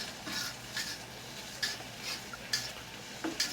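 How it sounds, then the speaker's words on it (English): A spoon stirring a mead mixture in a pot, producing a series of light scraping and clinking strokes at an irregular pace, quiet and close, with no talking. "So now I'm going to just stir it."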